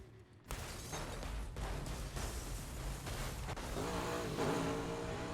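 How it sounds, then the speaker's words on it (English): A sudden loud impact bursts in, then a sustained crunching, roaring noise with engine drone, a car crash in Burnout Paradise on Xbox One, with no voices. "the sounds of like car crashes in this game sound like bombs going off"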